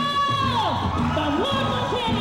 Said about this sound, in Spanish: ¡Haz un grito!